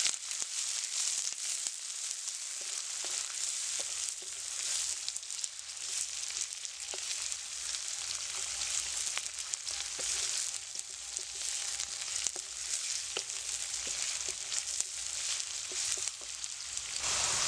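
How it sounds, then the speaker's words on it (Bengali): Chopped onion fries in a pan, giving a steady, dense sizzle that carries on without a break, with a few faint clinks of stirring and no voices. "প্যাঁচটা একটু লাল লাল করে ভাজতে হবে"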